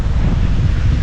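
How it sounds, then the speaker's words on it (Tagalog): Strong, steady wind buffets the microphone with low rumbling gusts, mixed with the wash of surf nearby, on Magalawa Island, Zambales, Philippines; no voices. "Uy, mahangin pala dito."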